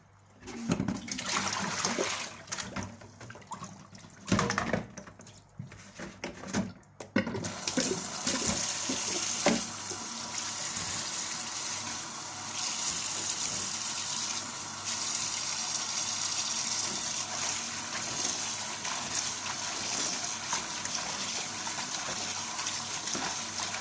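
Kitchen tap water runs while spinach is washed: splashing and interrupted pouring for the first several seconds, then a steady, full gush that continues alone to the end.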